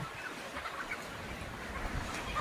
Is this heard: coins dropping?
no